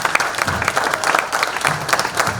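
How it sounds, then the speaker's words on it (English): A crowd claps in a brief burst of applause at an awards ceremony, dense and fairly close, with no talking. "Can you have a round of applause, please?"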